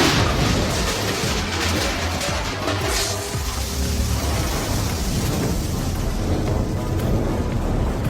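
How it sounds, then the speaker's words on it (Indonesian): A heavy, rumbling gas cylinder explosion set off by a gunshot, with roaring, noisy debris that stays loud and dense, a deep blast echoing for several seconds. "melemparkan tabung gas, mengikutinya dan meledakannya dengan satu tembakan"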